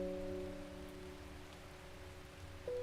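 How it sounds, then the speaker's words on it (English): Rain in the video game Strange Horticulture, a soft, steady patter of falling rain under a faint sustained musical tone. "it's also raining"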